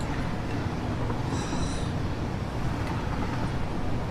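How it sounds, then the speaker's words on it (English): A train runs in the factory-building video game Satisfactory, giving a continuous broad rumble with a brief high whine partway through and no clear rhythm. "Why did this train feel slow going automatically?"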